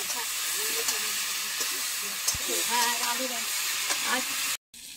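A vegetable curry sautéing in a pan gives a steady close sizzle and hiss with occasional stirring scrapes, while someone talks over it throughout.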